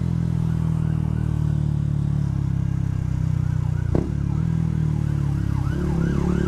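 Two police cars pass on a road while a Yamaha MT125 motorcycle rides along, their sirens wailing in rising and falling sweeps over a loud, steady engine and wind drone.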